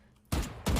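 Gunfire in the Valorant video game: two short, loud bursts of rapid shots in quick succession, close and crisp, with no talk.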